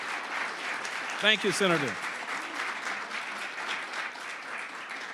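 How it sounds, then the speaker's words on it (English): Audience applause at a cyber security agreement signing, a steady wash of clapping throughout with someone speaking briefly over it. "Let's give another round of applause because this could not have happened without her."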